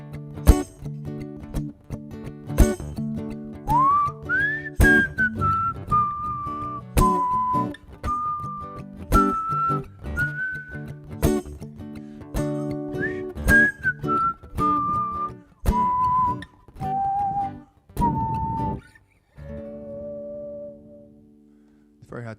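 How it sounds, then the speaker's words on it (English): A person whistles a wavering melodic tune close up, phrase after phrase over a steady backing of strummed guitar or percussive taps, the whistled line rising and falling before trailing off. "It's very hard to whistle and laugh at the same time."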